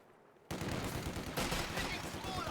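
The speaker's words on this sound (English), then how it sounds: "Taking small arms fire" Small arms fire crackles in a World War II real-time strategy match, dense bursts of rifle and machine-gun shots starting abruptly after a quiet moment and continuing loud and steady throughout.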